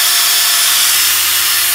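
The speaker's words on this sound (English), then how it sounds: "So I drill in at 45 degrees and then I twist the drill up" A drill bores steadily into the half gear of a BMW throttle actuator, giving a loud, close, continuous high-pitched grinding whine with no pauses or talking.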